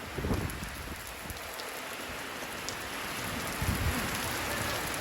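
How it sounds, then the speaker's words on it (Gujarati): Heavy rain pours steadily on surfaces around an outdoor spot in Vadnagar, a dense continuous hiss with a few louder splashy bursts, no talk. "ખૂબ એટલે ખૂબ વરસાદ પડે છે"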